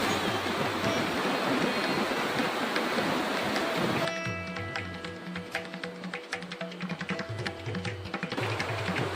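Forceful water at a temple gushes loudly and continuously for about four seconds, then drops to a lighter splashing trickle with scattered drips and spatters.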